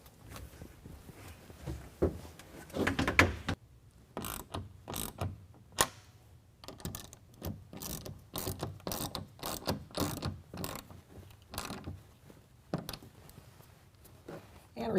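A BAK Revolver X4s tonneau cover is tightened down from underneath on a 2020 Jeep Gladiator, giving a run of sharp, close ratcheting clicks and creaks in quick irregular bursts with brief pauses between.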